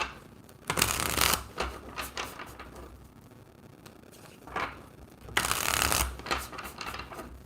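A deck of tarot cards is shuffled in two distinct riffling bursts, with softer handling and tapping of the cards between them, close and clear.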